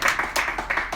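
Audience clapping at a Korean online political rally, a short burst of several separate hand claps, fairly close and moderately loud with no talk over it.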